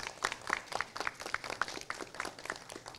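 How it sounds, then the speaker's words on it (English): A small group applauding at a letter-of-intent signing, quick irregular claps from several hands that stay fairly quiet and steady throughout. "So a round of applause for Luis."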